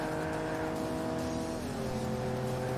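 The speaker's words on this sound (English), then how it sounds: "I do like his engine noise." Rocket League car engine, the Hypersonic body, droning loudly and continuously with a steady tonal hum that dips in pitch midway, like a shifting rev, with no voices.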